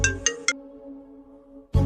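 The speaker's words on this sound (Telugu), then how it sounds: "ఫస్ట్ ఆ ఫోన్ లిఫ్ట్ చేయి." A phone ringtone plays loud and close, three bright chiming notes followed by a sustained tone before the melody starts again.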